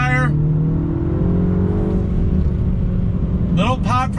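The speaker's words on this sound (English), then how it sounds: "Little pop from the exhaust." A 2021 Mini Cooper S convertible with a 6-speed manual drones steadily at high revs, holding a loud sustained tone, with a little exhaust pop and a voice speaking briefly at the start and again near the end.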